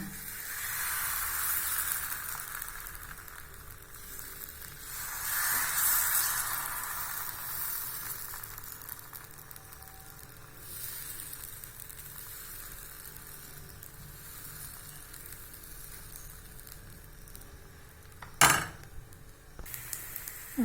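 Green gram dosa batter poured on a hot griddle sizzles and hisses in soft waves across the stretch, fairly quiet, with a sharp brief clatter near the end and no speech.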